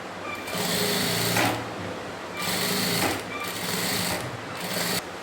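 Sewing machine stitching around the round edge of fabric for a latkan tassel, running in several steady bursts with short pauses between them, close and fairly loud on its own.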